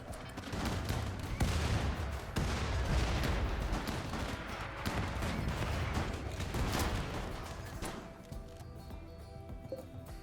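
Dense battle gunfire from a RimWorld fight with a tank and rocket artillery truck engaged: continuous loud volleys and bursts of shots packed together, heavy booms mixed in, easing off slightly near the end.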